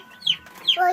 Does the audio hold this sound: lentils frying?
no